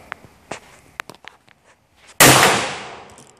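A 12-gauge shotgun fires a single 2¾-inch Winchester slug outdoors: one loud, sharp blast with a long fading tail, after a few small knocks and footsteps.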